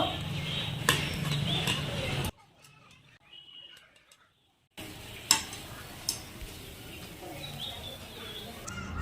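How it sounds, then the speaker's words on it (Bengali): Steady sizzling of plain flour dough buns (bun roti) frying in hot oil, close up, with a short quieter break midway and a few light clinks. "এইভাবে সবগুলা ভেজে নেব"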